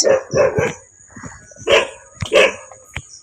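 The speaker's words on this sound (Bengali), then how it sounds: "এই এত ঘেউ ঘেউ করে কেন বলতো" A dog barks repeatedly at a village house, a quick triple bark followed by several more sharp barks spaced out, loud and close by.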